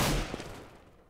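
A single gunshot from a rifle in the video game CS:GO on the Inferno map. It cracks loudly at the start, then a decaying echo tails off over about a second, with no voices.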